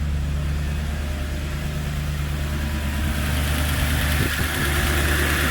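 A BMW E39 with a V8 engine idles smoothly, a steady, even low rumble that holds constant throughout without revving.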